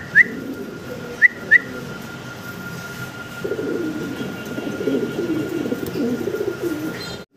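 A young pair of fancy pigeons cooing in low, rolling murmurs that fill the second half, preceded by a few short sharp whistles, with a faint steady tone in the background.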